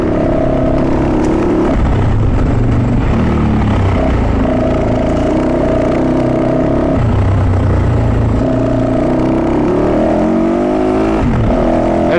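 Fantic 450 Rally motorcycle with a Yamaha 450 engine and a loud aftermarket exhaust, revving and pulling through the gears up close, its pitch climbing and dropping in repeated surges.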